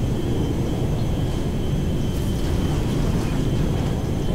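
A helicopter lifting off in GTA 5 Online gives a steady, loud roaring rotor and engine drone that holds constant throughout, with no talking over it.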